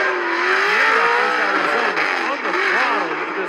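A drift car's engine revving hard through a qualifying run on a street course, loud and continuous with rising and falling pitch, under excited commentary.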